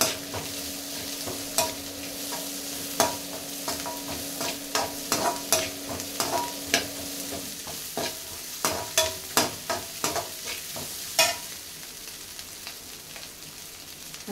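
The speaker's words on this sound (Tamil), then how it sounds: "ஏன்னா இதே எண்ணெயில் நல்லா வதங்கிடும்." Crushed spices and two green chillies sautéing in hot oil for semiya biryani, with steady frying crackle and repeated clinks and scrapes of a stirring spoon against the pan, close and clear with no talk.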